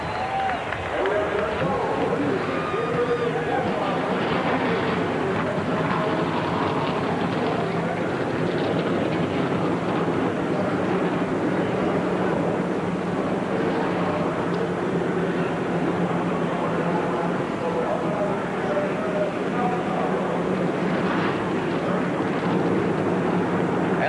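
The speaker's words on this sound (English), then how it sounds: "Gentlemen, start your engines." A field of NASCAR stock cars in the Gatorade 125s roars to life, a loud, continuous, layered engine drone with crowd noise and talk over it.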